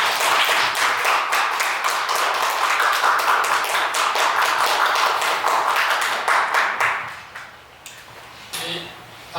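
A church congregation applauds to welcome a pastor to the pulpit during Sunday worship, with rhythmic, close clapping that keeps going for several seconds, then drops away abruptly into quieter room sound.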